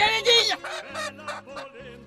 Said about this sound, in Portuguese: essa é a galinha sedosa